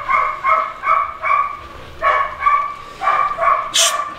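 A Rottweiler barks repeatedly nearby, short sharp barks in quick clusters with brief pauses between them, loud and clear.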